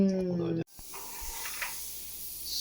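A mini split air conditioner unit is sprayed out with water, giving a steady hiss that starts abruptly after a brief tonal sound and runs on with faint fluctuations.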